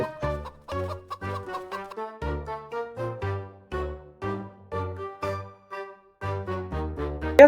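Clear, close chicken clucks from the Roblox video game repeat in short bursts with a bouncy, game-like rhythm, with no one talking.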